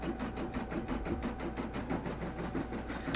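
A Brother PRS 100 embroidery machine stitches on leather with a steady, fast mechanical chatter, an even rhythmic clatter heard up close over a low hum.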